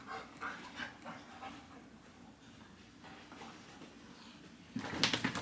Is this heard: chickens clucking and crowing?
no